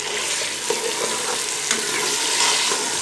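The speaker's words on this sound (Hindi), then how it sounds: "जब प्याज भुनेगा तो साथ ही आलू भी भुन जाएगा।" Potatoes and onions sizzle steadily in a pan while being stirred, with a close, constant frying hiss and a few light scraping touches.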